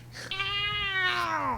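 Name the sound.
person imitating a cat meow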